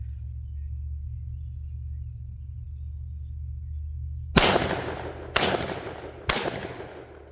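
A Walmart shotgun fires three loud, sharp blasts about a second apart, each with a decaying tail, over a steady low outdoor rumble.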